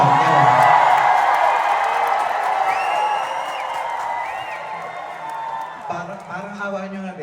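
Concert audience at a show in a resort casino theater shouting and cheering loudly on request, a dense sustained crowd roar that eases slightly before a voice cuts in near the end.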